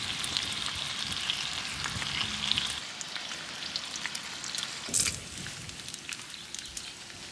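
Bacon sizzles and fries steadily on a hot Traeger Flatrock griddle brushed with a thin film of olive oil over medium heat, a dense crackling hiss with a brief louder burst of popping partway through.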